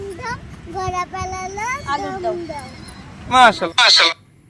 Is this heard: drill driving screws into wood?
no